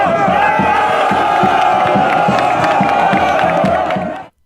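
Football crowd at a local tournament roaring and chanting as the winning team receives the cup, loud sustained cheering with rhythmic shouts and whoops, cutting off abruptly at the end.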